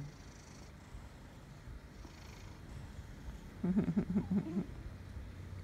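A cat purring while cuddling up to its owner in bed, a soft steady purr that swells louder in a close burst of rhythmic pulses toward the end, with faint room noise around it.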